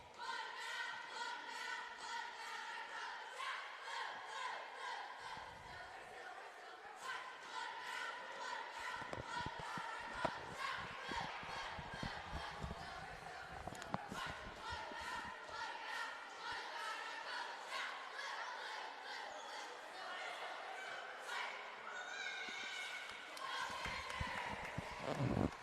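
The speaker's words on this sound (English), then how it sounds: "Great little routine there by the Viera Charter cheer squad." A middle school cheer squad performs a routine at the end of the first quarter of a boys' basketball game in a school gym. Steady chanted voices and music-like tones run throughout, somewhat distant, with crowd noise underneath.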